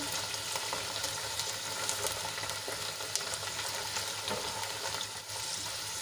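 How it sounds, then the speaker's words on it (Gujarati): Gunda (cordia fruit) fry in a pan with a steady, dense sizzle that holds at an even level throughout, no voices over it. "આ રીતે ગુંદાને ફ્રાય કરવાથી ગુંદાની બધી ચિકાસ છે એ બધી દૂર થઈ જશે"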